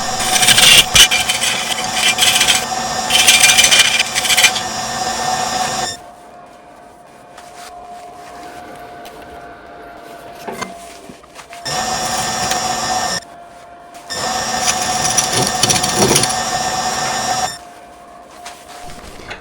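A wood lathe spins a resin piece in bursts, its steady motor hum joined by harsh scraping and whirring from the carbide-tipped tool cutting in, falling quieter between passes.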